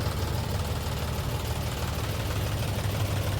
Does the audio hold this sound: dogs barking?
no